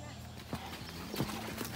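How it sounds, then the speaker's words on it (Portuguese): Horse hooves clip-clop on the ground at a steady walking pace on a Brazilian farm, with spaced thuds and a nearby voice talking over them. "Toca esse cavalo, Guilherme."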